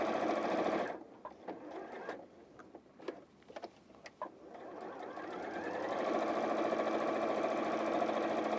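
A sewing machine stitches ribbon along a pen mark, its rapid mechanical chatter running steadily, pausing with a few ticks and short bursts, then resuming continuously at close range.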